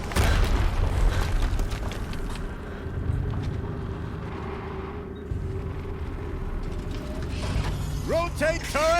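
A gun turret rotates in the Horizon Zero Dawn video game, giving off a steady mechanical ratcheting grind that fills the whole stretch, with a voice rising briefly near the end.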